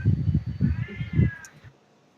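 An angry Siamese-Tonkinese mix cat gives a run of loud, close, drawn-out meows and growly yowls, several pulses in a row before fading to quiet.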